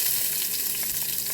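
Garlic sizzles steadily in a hot pan, a close, dense frying hiss throughout.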